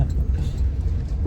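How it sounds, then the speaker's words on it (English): A car's interior rumble while driving, a steady low engine and road drone close to the microphone with no clear speech on top. "You can hear all my car sounds."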